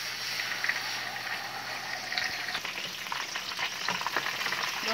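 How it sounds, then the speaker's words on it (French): Tilapia frying in hot oil, a dense steady crackle and hiss with scattered pops and spatters growing busier toward the end, over a faint low hum. "Donc, je vais frire mon poisson maintenant."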